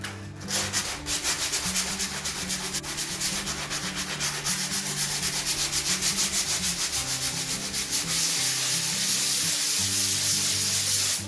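Steady, close-up rubbing as paint is sanded off around a hole in plasterboard, a continuous abrasive scratching that runs evenly for about ten seconds with no talk.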